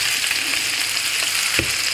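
French toast frying in butter in a pan gives a steady, loud, close sizzle throughout, with a brief soft knock or stir near the end.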